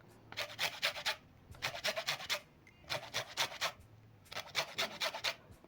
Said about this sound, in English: so I'm going to zest the green part of the lemon